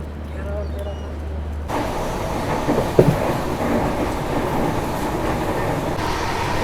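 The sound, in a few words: Udaipur–Mandsaur passenger train arriving at station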